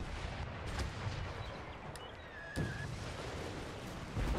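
Cannon artillery fires in the Empire Total War battle game: a few distant booms land amid a constant rumbling battlefield roar, with no one talking.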